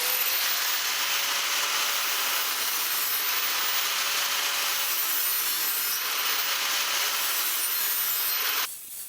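A lawnmower blade edge is sharpened with steady, rasping strokes, a continuous close scraping with slight rhythmic surges that stops just before the end.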